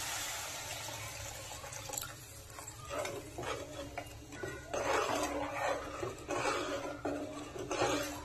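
Tamarind juice is poured into a rasam pot, a close, trickling, splashy flow that swells and pulses in bursts over several seconds, with no one talking.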